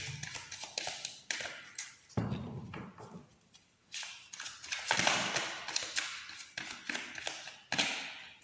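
Crisp repeated tarot card shuffling, with riffling bursts and sharp taps, close and fairly quiet, with no voices.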